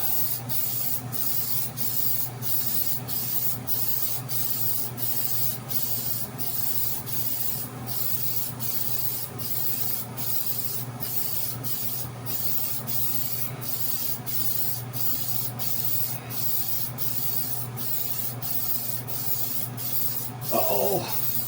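A spray gun applying paint to a Gremlin car hisses continuously up close, broken by brief regular pauses as strokes stop and restart, over a steady low compressor hum.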